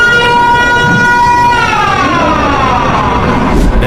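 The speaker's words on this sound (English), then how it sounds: "Next is the tsunami warning siren in Japan." Tsunami warning siren in Japan, a loud sustained tone that holds steady and then slowly slides downward in pitch, heard alone over a rough background hiss.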